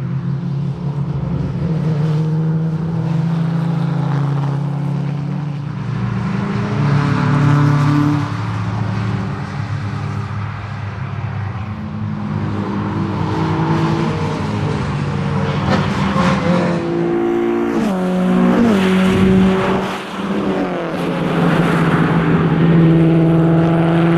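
A Ford GT40 race car on a circuit, its engine roaring loudly and nearby with rising and falling revs through gear changes, a sustained harmonic drone that swells as it accelerates.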